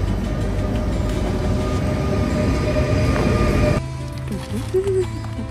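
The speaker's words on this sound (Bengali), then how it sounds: "আমাদের ট্রেন চলে যাচ্ছে, আমাদের এদেরকে নামিয়ে দিয়ে ট্রেন চলে যাচ্ছে।" A passenger train on the Berlin to Salzburg route rumbles loudly and steadily as it pulls away from the platform, then the noise drops off abruptly, leaving a quieter hum with faint station sounds.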